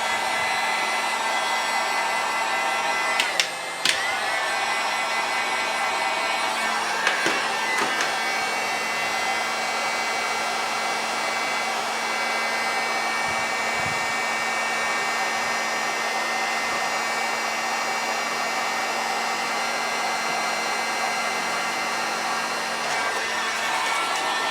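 A heat gun blows steadily while warming the plastic bodywork of a DRZ 400S motorcycle, a loud, continuous airy whir with a few faint clicks and knocks near the start.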